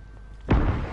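A grenade goes off in Call of Duty Warzone: one heavy, booming blast hits after a quiet lead-in and leaves a rumbling tail.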